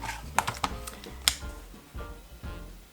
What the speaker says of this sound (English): So now we want to trim the excess off